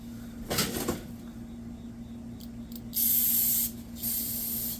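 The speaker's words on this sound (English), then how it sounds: "Get the carb spray." Carburetor cleaner sprayed onto the carb of a Homelite Super XL chainsaw: a short hiss, then a longer steady burst of aerosol spray and a final shorter burst, close by and alone.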